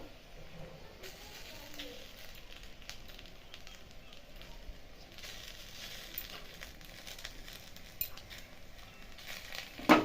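Egg batter for egg paratha fries in a pan with a soft, continuous sizzle and hiss, broken by faint stirring scrapes, quiet throughout, with a louder clatter at the very end.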